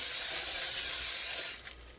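A steady, close hiss of cooking spray onto a skillet for about a second and a half, then stops, leaving a faint rustle.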